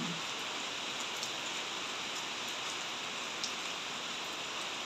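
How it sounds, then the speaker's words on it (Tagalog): Steady rain falling on a warm, sunny day, a dense unbroken hiss of drops on surfaces with a few slightly louder taps, constant and close, with no talking. "Mainit nga, pero umuulan."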